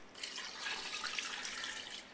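Water pours steadily into a cooking pot holding mutton for a spinach and mutton dish, a continuous close splashing stream that runs unbroken and alone for about two seconds.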